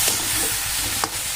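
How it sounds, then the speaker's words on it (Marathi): Spiced bitter gourd masala with sugar, garam masala and red chilli powder being stirred in a pan, a soft continuous scraping and gentle sizzle with one brief louder scrape near the end. "आता हे अजून एकदा आपण छान असं मिक्स करून घेऊया"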